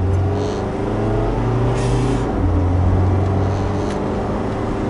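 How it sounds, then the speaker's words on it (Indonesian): A Chevrolet Trailblazer SUV accelerates at about 40 km/h, its engine droning steadily louder as it revs, heard from inside the cabin with a constant low road rumble and no talk. "Ngegas, Pak."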